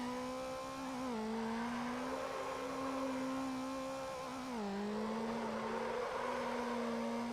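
A car engine in Need for Speed Underground drones steadily, its pitch dipping briefly twice as gears shift, faint and continuous.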